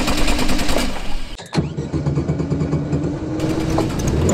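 A Volkswagen Beetle's air-cooled flat-four engine cranks briefly, then catches and settles into a steady, uneven idle, heard close and alone outdoors by a rough field.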